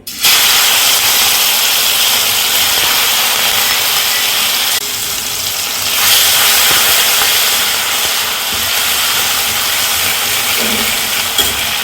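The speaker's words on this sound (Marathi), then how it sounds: "आता आपलं इथे तेल तापलेलं आहे. आपण या ठेचा टाकून घेऊ." Crushed chili-garlic thecha hitting hot oil in a kadhai, a loud sudden sizzle that continues as a dense steady hiss, easing slightly midway and swelling again.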